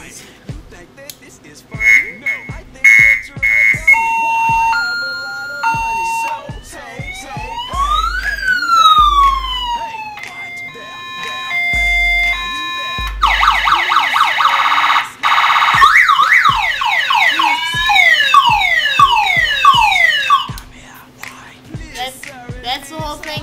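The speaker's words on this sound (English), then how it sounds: "Not just police sirens, sirens." A string of loud electronic sirens, police-style wails among them, cycles through steady tones, rising and falling sweeps and rapid warbles, with clicks between them.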